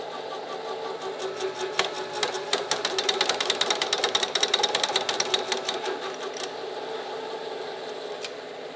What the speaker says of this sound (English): That's like 6 or 7 seconds to do a 3/8 16 tap in 1-inch plate steel.